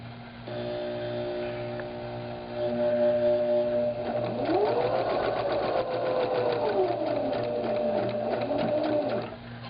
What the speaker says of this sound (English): We've got this piece, and we want to sew it. So you just want to guide it along.